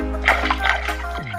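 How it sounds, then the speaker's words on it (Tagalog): Drinking water splashing and trickling as food is rinsed, a brief close, loud burst of watery sloshing with no talking. "Babanlawan pa natin 'to ng yung iniinuman na tubig."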